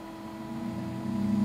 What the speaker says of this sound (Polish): To jest dźwięk pracy pompki.